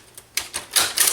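A We R Memory Keepers Typecast typewriter being typed on: a short run of sharp, close key strikes, clattering in quick succession and growing louder toward the end, with no voices.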